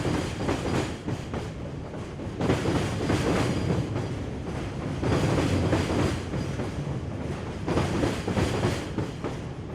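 A very loud train passes along a railway line beside an RV stopover, making a continuous heavy rumble and rhythmic wheel clatter that swells in waves over about ten seconds, with no voices.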